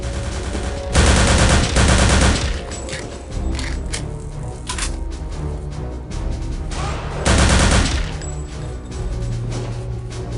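Gunfire in Return to Castle Wolfenstein, two loud bursts of rapid automatic shots about six seconds apart, with scattered single shots and clatter in between, no talk.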